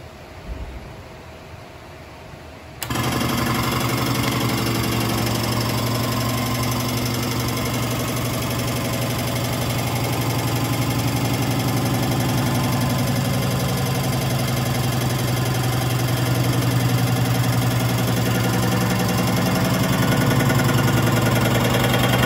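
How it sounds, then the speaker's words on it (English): A hydraulic pump on an air-over-hydraulic filter press switches on abruptly and runs as it builds pressure, giving a loud, steady, rough mechanical drone like an idling engine that holds to the end without any talking. "we'll turn on the hydraulic pump to build the pressure."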